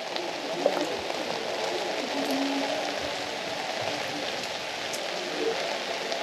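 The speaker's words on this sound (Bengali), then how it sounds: "এখনো কিন্তু প্রচুর বৃষ্টি হচ্ছে।" Heavy rain pours steadily across the Bandarban hills near a hilltop viewpoint, a constant close hiss of drops hitting surfaces with occasional louder splats and no speech.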